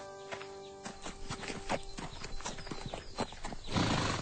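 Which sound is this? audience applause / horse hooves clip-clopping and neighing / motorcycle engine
horse hooves clip-clopping and neighing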